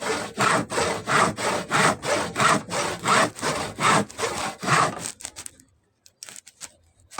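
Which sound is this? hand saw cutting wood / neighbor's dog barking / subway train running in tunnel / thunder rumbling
hand saw cutting wood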